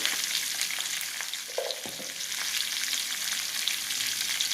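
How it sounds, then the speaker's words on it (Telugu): Cauliflower pieces fry in oil and are stirred with turmeric, a steady sizzle with a few spoon scrapes and clinks against the pan. "ఇప్పుడు మనం క్యాలీఫ్లవర్ ముక్కలు వేసుకోవాలి. కలుపుకొని దీంట్లో కొంచెం పసుపు వేసుకోవాలండి."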